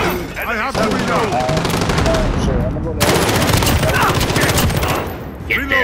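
Rapid automatic gunfire and bursts of shots in Call of Duty Modern Warfare multiplayer, loud and near, nearly continuous across the span with game voice callouts and player chatter mixed in.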